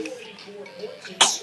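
A small boy sneezes once, sharply and close, right after soft babbling vocal sounds.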